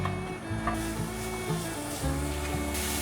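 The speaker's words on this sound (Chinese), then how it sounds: "油热了之后放入红萝卜，把红萝卜丝先炒软" Shredded carrots stir-fried in hot oil in a flat-bottomed frying pan, a steady close sizzle running throughout with occasional scraping stirs.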